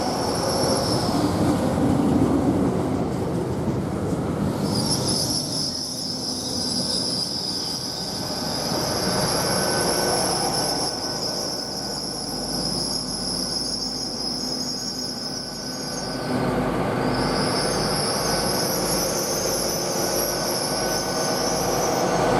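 A train rushes through Didcot Parkway railway station, a loud, continuous rumble close by with high wheel squeal above it, and rhythmic wheel clatter near the end. Insects chirp steadily in the background.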